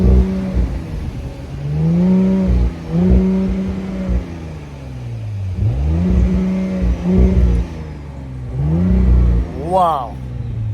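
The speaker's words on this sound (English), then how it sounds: "This is as fast as this car shifts the gears." A car accelerating through traffic, its engine revving up in repeated rising sweeps as the gearbox shifts quickly, loud and close from inside the cabin, with people talking over it.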